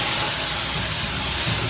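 Ground herbal paste for hair oil hits a hot pan and sizzles in a loud, steady, continuous hiss, close up with no talking.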